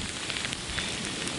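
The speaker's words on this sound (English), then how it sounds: "We have a ice, rain, sleet, and hail." A winter ice storm in Wisconsin drops freezing rain, sleet and hail in a dense, steady patter and hiss that holds at an even loudness throughout, with no voices.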